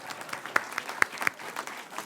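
Scattered, thin applause from an audience at a House Democrats event, a few louder individual claps standing out over a soft background patter.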